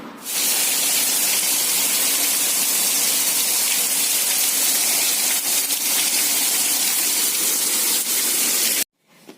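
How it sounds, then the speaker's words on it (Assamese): Heavy rain pours down in a dense, even roar of hiss that holds steady for several seconds and then cuts off abruptly. "আজি বাহিৰত বিৰাটেই বৰষুণ"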